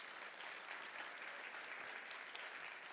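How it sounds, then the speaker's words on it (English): Applause from an audience at a startup showcase fills the room, a continuous, fairly soft patter of many hands clapping at an even level without any talking. "can we give a round of applause maybe just to Lucy and Ken?"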